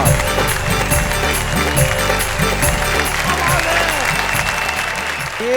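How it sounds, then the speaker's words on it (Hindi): Audience at a romantic poetry recital clapping loudly in a dense, sustained burst of applause, filling the room steadily throughout with a crowd murmur underneath. "एक बार जोरदार तालियां फिर इनके लिए।"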